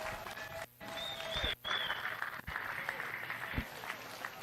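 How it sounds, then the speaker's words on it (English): A crowd applauds at the Cache County Fair junior livestock show, a dense, steady clapping that runs throughout with a couple of brief dips and voices mixed in. "I think you guys need a big round of applause for everybody that's putting on this show."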